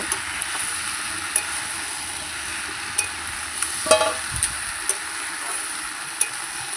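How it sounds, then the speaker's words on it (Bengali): Pumpkin pieces fry in a pan with a steady soft sizzle while a spatula stirs them, scraping and tapping in scattered clicks at close range, with no talking. "এবার কুমড়োটা আর একটু ভালো করে নাড়াচাড়া করে নেব।"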